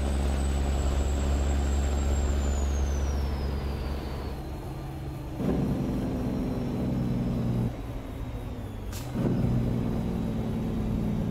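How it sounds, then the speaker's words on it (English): Old Autocar truck engine in American Truck Simulator, heard with the windows down: a steady, loud low diesel drone with a gliding high whine, broken by a couple of short bursts of throaty engine braking or shifts. "Listen to the old truck."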